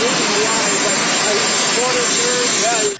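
A loud, steady helicopter roar fills the air overhead at a President Trump event, a broad rushing drone that stays constant before cutting off at the end.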